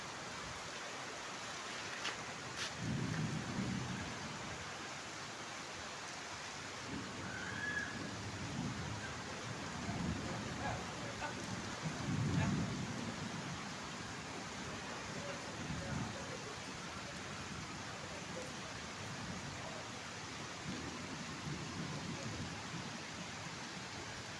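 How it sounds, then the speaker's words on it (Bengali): Heavy rain pours steadily in a continuous broadband hiss for the whole stretch, with a couple of low rumbles that may be distant thunder rising briefly beneath it. "অনেকক্ষণ থাকবে মনে হচ্ছে এই বৃষ্টি যেভাবে নামছে"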